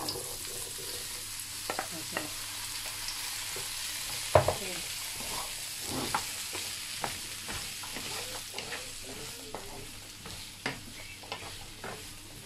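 Sea bass fries in a pan with a steady, loud sizzle throughout, broken by scattered clinks and scrapes from a utensil, including one sharp knock early on.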